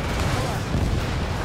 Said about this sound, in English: Destruction of first missile silo confirmed.